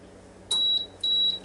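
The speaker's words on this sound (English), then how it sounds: "Alright, it beeps and the light comes on the inside" A Power Air Fryer Oven 360 signals that the toast is done with two sharp, steady electronic beeps in quick succession, clear and moderately loud above a faint low hum.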